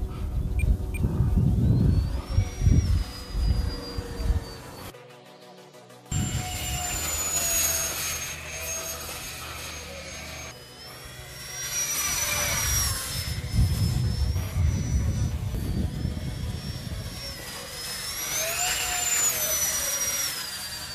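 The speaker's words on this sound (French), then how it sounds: "Sympathique petit jet de sport, mais vraiment pas violent du tout." An E-flite Habu SS 6s electric ducted-fan sport jet flies on a radio-controlled maiden flight with a sustained high whine that swells and fades as it passes overhead, over wind rumble, with one brief cut in the sound.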